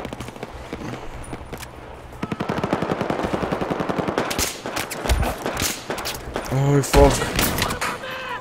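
Rapid bursts of automatic gunfire from the shooter game Battlefield 4, GunMaster mode, crackle densely with sharp nearby shots over distant firing, while a player talks and swears over the action.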